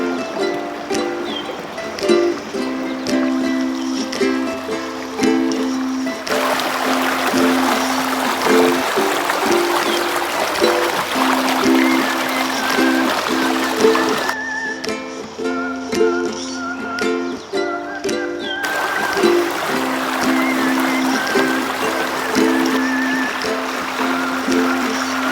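Creek water flows in a continuous, fairly loud rushing trickle. It holds steady under a recurring tonal background that drops away briefly midway.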